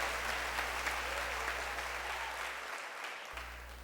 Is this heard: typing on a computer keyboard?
no